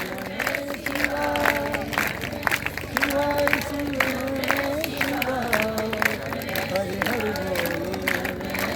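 A large crowd in a pandal at a Shiva katha in Sarangpur claps in rhythm along with a sung Shiva chant, the steady beats blending into the voices and music.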